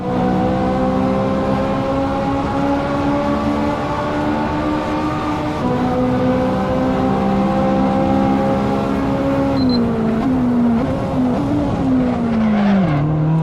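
A Ferrari 458 Italia engine in the racing game Assetto Corsa, heard from the interior view, holds a loud steady high-revving tone, then shifts and changes pitch several times near the end.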